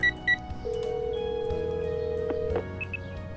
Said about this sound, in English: I punch in Nikki's phone number and wait for her to answer